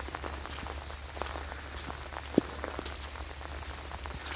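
Steady light rain patters on a woodland path, a soft continuous hiss with scattered drops and a faint footstep-like tap, quiet and close with no talking.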